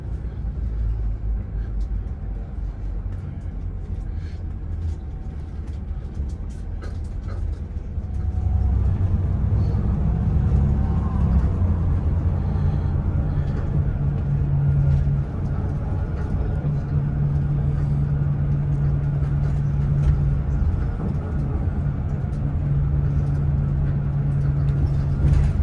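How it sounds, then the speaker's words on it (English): Traffic at a village bus station in Switzerland, with a steady low engine rumble from buses and cars that grows louder partway through and keeps on at an even level, and voices faint in the background. "Village bus station."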